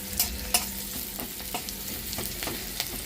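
Food gently sizzling in a pan while being lightly fried for a mustard fish dish, a steady soft hiss with a few spatula taps and scrapes, close up and without talk.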